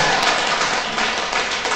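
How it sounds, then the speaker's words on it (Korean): Worshippers in a Catholic church in the Suwon diocese keep clapping, a continuous crowd patter of many hands echoing evenly through the space at moderate loudness. "나중에 박수 친 사람들 또 받으세요."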